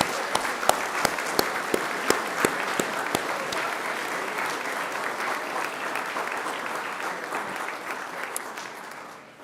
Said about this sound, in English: turn to one another and give yourselves a resounding round of applause